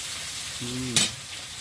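Bay leaves, panch phoron and onion frying in hot oil, giving a steady faint sizzle with one brief sharp clatter midway, close and quiet, no talking.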